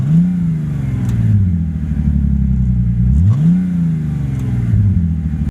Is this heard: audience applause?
no